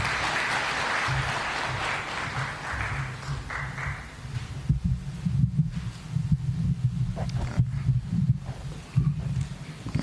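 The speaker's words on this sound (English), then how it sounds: "Let's welcome him with a warm clap" A crowd applauds for several seconds, a dense wash of clapping that thins into scattered, uneven claps and thumps toward the end.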